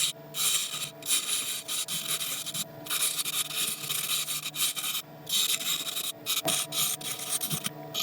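Tool cutting an inlay groove into a turned wooden piece on a lathe, giving a continuous close rasping, rubbing scrape with faint rhythmic pulsing throughout.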